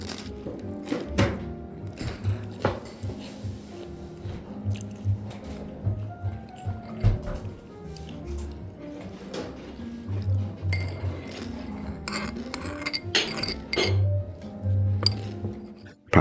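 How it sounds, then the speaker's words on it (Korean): Rice bubbles and sizzles in a pot at a sushi restaurant, with soft squishing and popping throughout and occasional clinks of utensils, no speech. "박박 끓는 소리도 더 크게 들리는 것 같습니다"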